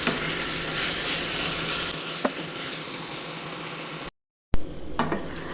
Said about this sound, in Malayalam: ഒരു രണ്ട് മൂന്ന് മിനിറ്റും കൂടി ഇതേപോലെ ഇളക്കിയെടുത്ത്